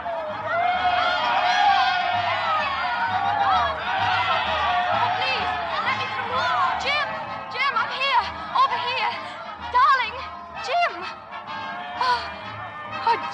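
A lively crowd on a pier welcomes a returning regiment in a radio-drama scene, with dense chatter, scattered calls and laughter continuing throughout at close range.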